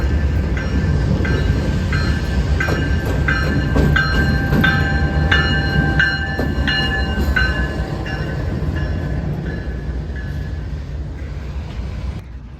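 A CPKC freight locomotive moves through Bensenville Yard, its engine rumbling steadily while a repeating high metallic ring or bell-like tone pulses over the low drone, gradually easing off toward the end.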